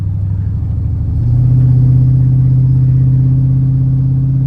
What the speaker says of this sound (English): it's got a real deep tone